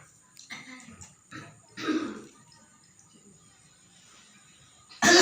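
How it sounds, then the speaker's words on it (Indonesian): A woman with a cough that has brought up blood coughs and clears her throat in short separate bursts, close by in a quiet room, then one loud final burst. "Coba batuk tadi."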